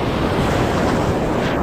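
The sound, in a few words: ocean waves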